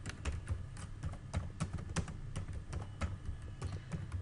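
Steady typing of VBA code on a computer keyboard, a brisk run of sharp key clicks in an uneven rhythm, close and fairly quiet, with no talking.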